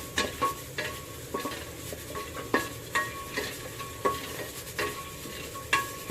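Peanuts, almonds and cashews being dry roasted in a pan, with a spoon stirring and scraping in irregular clattering strokes over a faint background, close and moderately loud.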